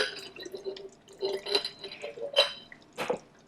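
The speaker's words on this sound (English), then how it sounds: "I'm gonna pour it in the other jar." Liquid poured from one jar into another in a home kitchen, with close, uneven splashing and dripping in short bursts and a few faint clinks.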